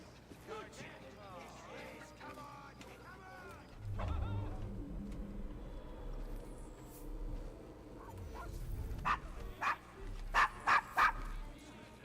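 Dog barking and whimpering in the video game Assassin's Creed Syndicate, a few sharp barks rising near the end over game music and background voices.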